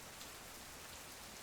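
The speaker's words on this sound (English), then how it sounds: "The rain's still falling, slow and steady" Slow, steady rain falls at night, a soft, even hiss of drops on surfaces that runs without a break and stays quiet and close, with no voices.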